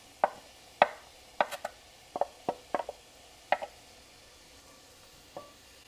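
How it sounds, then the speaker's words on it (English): A handheld food chopper cuts ingredients for creamy white chicken chili in a kitchen, giving about a dozen sharp, close clacks in irregular bursts against a quiet background. "Put it in my handy dandy chopper here"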